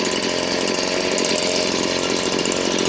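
A small two-stroke engine of a Stihl BG56C leaf blower roars steadily at high revs, loud and close, with a buzzy, unbroken drone throughout.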